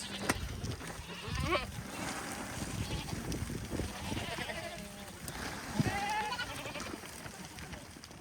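Goats on a hilly green Texas ranch bleat intermittently at moderate distance, several wavering calls scattered over steady outdoor background noise.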